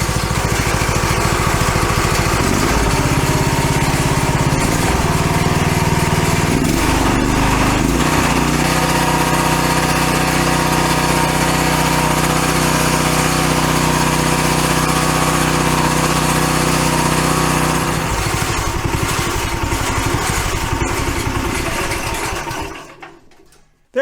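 A Duromax 440cc engine runs on its first run, a loud, continuous, buzzing drone with slight shifts in pitch, holding steady for about twenty seconds before winding down and stopping.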